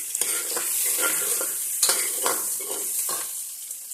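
Tomatoes stirred into a sizzling frying pan while cooking Gorkha-style chicken biryani with maize rice, a steady close frying hiss with repeated scraping strokes of the spoon, no talk.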